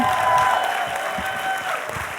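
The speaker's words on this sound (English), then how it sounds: "Please keep your applause going. Make it big and loud for Bill Heavey" An audience claps loudly to welcome a speaker to the stage at an evening talk, a thick wash of applause that stays strong, with a few whoops and a brief tonal ring threaded through.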